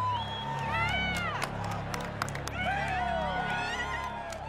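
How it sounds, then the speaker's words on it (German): Crowd noise in a packed football stadium near Buenos Aires, a steady roar of voices with scattered shouts and whistles rising over it, loud and continuous throughout. "in einem vollbesetzten Fußballstadion"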